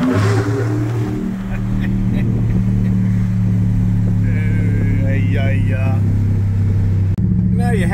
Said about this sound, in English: The tunnels are always the fun part with the exhaust.